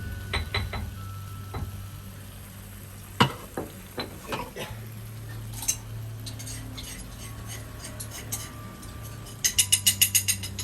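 Shrimp stir-fried with holy basil in a hot pan, a steady sizzle under sharp spatula scrapes and clinks, ending in a quick burst of rapid metallic tapping.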